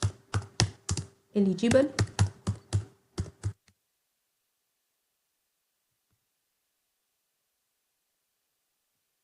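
Quick keystrokes on a computer keyboard as HTML form text is typed, a dense burst of close sharp taps over a man's brief speech, then the keys stop and silence follows.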